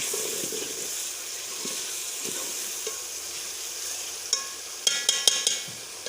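Tomatoes and green chillies frying in a pan for a Pakistani-style pumpkin curry give a steady close sizzle, with a few light clinks of a spoon stirring near the end.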